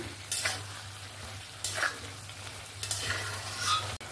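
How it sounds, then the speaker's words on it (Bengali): Fried potato, pointed gourd and soybean are stirred into masala in a pan, with three short bursts of sizzling and spatula scraping over a low steady hum and a sharp clack near the end. "এই মশলার সঙ্গে ভালো করে আলু, পটল আর সয়াবিনটাকে মিক্স করে নেব।"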